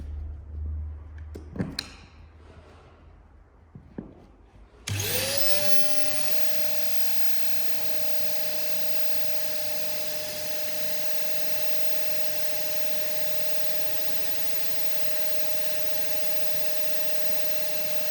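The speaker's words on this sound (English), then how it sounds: "So now you're gonna vacuum the air out." An electric air pump draws air out of a tube chamber in a DockyDock. After a few seconds of quiet handling noises it starts abruptly with a loud, steady whirring whine that holds for the rest of the clip.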